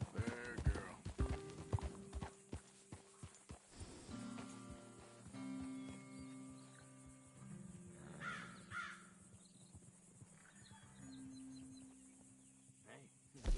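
Horse hooves clip-clopping at a walk in Red Dead Redemption 2, with crows cawing and occasional whinnies, voices talking intermittently over a quiet ambient background.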